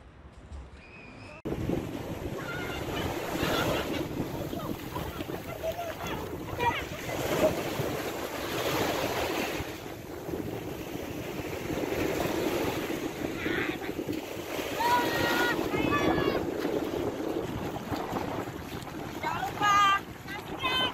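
Waves wash in at a beach, a steady rush of surf and wind noise buffeting the microphone, with scattered voices chattering over the top.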